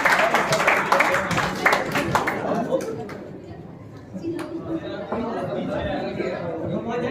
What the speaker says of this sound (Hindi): जोरदार तालियों से स्वागत करिए राम सर का।